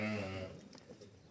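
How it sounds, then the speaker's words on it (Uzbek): A single short sheep bleat, a wavering nasal call close by, lasting under a second and fading out. "chiroyli qo'ylar."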